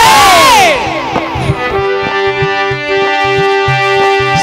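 Clamour of a gathered crowd in a staged Ramayana scene, loud voices massing together over a steady musical drone with rhythmic low beats running beneath.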